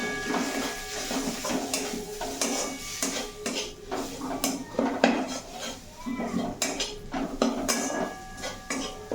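Ground coriander and spices being stirred in a cooking pan, with frequent metallic clinks and scrapes of a utensil against the pan, irregular and close, over a low background hum.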